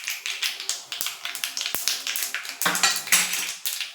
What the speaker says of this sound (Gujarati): તો ચમચાની મદદથી આ રીતે આપણે એડ કરી લેશું જેથી બધા ઢોકળા પર છે તે સરખો વઘાર લાગે